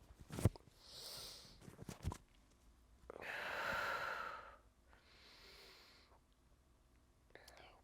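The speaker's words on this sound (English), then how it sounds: "Deep breaths." Slow, deep breaths are drawn in and released during a yoga side crow pose, each long airy inhale and exhale close and soft, with a few quiet clicks and rustles between.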